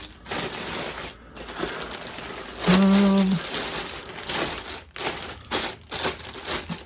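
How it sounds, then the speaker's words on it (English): Plastic wrapping is peeled off an Ampeg PF-50T tube bass amp head, giving loud, continuous crinkling and crackling close by, with brief pauses and a short tonal squeak partway through. "let me get the plastic off"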